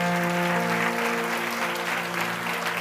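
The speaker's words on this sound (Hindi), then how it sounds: "मैं ताली सुनना चाहता हूं आपके हाथों से।" A church congregation applauds with hands during a worship service: continuous dense clapping with a sustained tonal hum of music or organ underneath, steady and fairly loud throughout.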